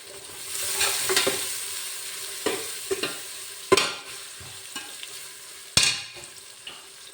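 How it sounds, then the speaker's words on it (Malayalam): Sliced onions fry in ghee over a high flame for a garnish, giving a close, steady sizzle broken by several sharp scrapes and clatters as they are stirred in the pan, with no talking. "ഈ നെയ്യുണ്ടല്ലോ ആദ്യം സബോള കുറച്ച് മേലെ ഗാർണിഷ് ചെയ്യാനായിട്ട് കുറച്ച് വറുക്കാം"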